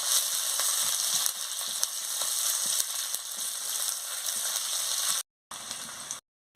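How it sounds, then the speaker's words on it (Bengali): Chopped onion fries in hot oil in a pan, a steady close bright sizzle with faint crackles, interrupted by two short silent gaps near the end. "এবার আমি পেঁয়াজ কুচিটাও দিয়ে দিচ্ছি। দিয়ে ভালো করে ভেজে নিচ্ছি।"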